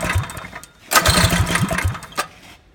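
A Predator 212 small engine fitted with a Tillotson TCT carburetor runs up close and loud. It starts rough and sputtering, then surges into a steady, faster run with throttle variations before easing off.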